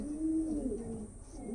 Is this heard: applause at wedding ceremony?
no